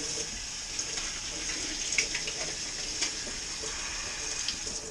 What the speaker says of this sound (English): these 3 dried noodles, I'm just going to wet them under hot water.